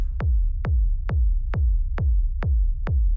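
Seven evenly spaced techno kick drums with a deep rumble tail beneath, heard with the drum buss processing switched off, loud and steady with the low rumble sustaining between hits.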